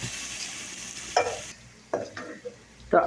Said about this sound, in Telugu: అల్లం వెల్లుల్లి పేస్ట్ ఇప్పుడు పచ్చి వాసన పోయే వరకు కలుపుకోవాలి